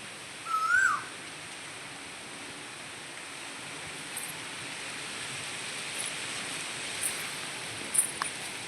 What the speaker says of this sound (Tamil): குயில் கத்துறது கேட்குதா அழகாக கத்துவாங்க குயில்